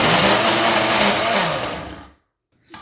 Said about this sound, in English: Like that, you just puree it